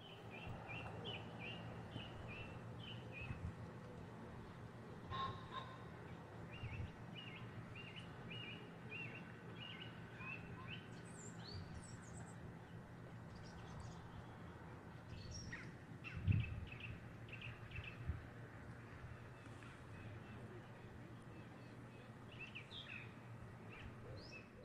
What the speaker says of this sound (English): It's just bird song and things in the woods.